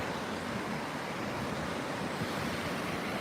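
A river running high rushes past in a steady, dense broadband roar, close and continuous, with no voices.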